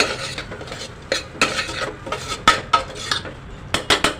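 A spoon scrapes and stirs ground coriander and cumin in a metal pan for a whole masoor dal pulao, giving irregular clinks and scraping strokes, close and fairly loud, with no voices.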